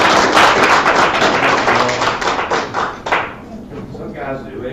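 Dense clapping from an audience at a City of Maitland council meeting fills the first three seconds, then fades as voices take over near the room's microphones.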